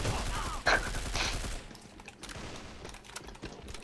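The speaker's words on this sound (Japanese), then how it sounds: "超適当に撃ったのに相手死ぬ" Rapid gunfire in an E-BOAT video game match, a burst of shots up front followed by scattered quieter cracks and thuds fading into the background.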